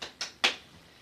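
Three quick sharp hand claps, close and fairly soft, keeping time to a children's boogie dance song.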